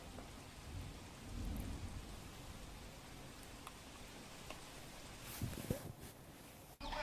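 Steady pre-monsoon rain falls on waterlogged city roads in Ahmedabad, with low rumbling thunder rolling in the background, a continuous wash of drops interrupted by a few sharper knocks near the end.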